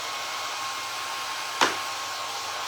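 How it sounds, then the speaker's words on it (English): A hair dryer blows steadily at a craft table during a simple primitive box painting project, an even continuous airy whir with one brief sharp click midway. "When I use the hairdryer, everything blows off my table."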